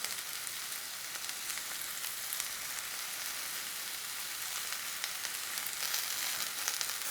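Vegetables frying and caramelizing in a hot pan, left mostly untouched, producing a steady even sizzle and crackle that runs continuously at a moderate level with no voices.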